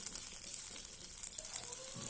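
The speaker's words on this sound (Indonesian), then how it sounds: "kemudian bawang putihnya juga. kita goreng sampai jangan terlalu matang ya" Garlic frying in oil in a pan while preparing chicken noodles, a steady bright sizzle that holds evenly for a couple of seconds with no talk.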